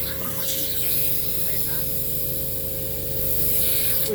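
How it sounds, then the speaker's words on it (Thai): A strong water jet sprays steadily at a watermelon, a continuous hissing rush with a constant pump whine underneath, close and loud throughout with no pauses. "นี่ลองฉีดใส่แตงโมนี่ดูกับตัน แตงโมขาด"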